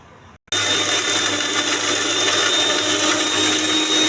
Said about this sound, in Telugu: కొంచెం చింతపండు రసము మిక్సీ వేయాలండి